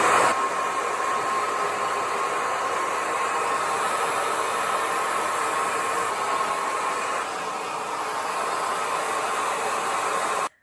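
A hair dryer blow-drying curly hair, a steady, loud, close whooshing roar with a faint whine that runs without a break and cuts off abruptly at the end.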